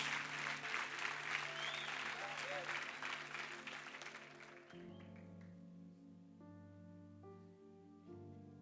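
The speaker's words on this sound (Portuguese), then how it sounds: "Se é para aplaudir, aplauda glorificando o nome do Senhor Jesus." A church congregation claps loudly together for several seconds. The applause then fades as sustained keyboard chords take over.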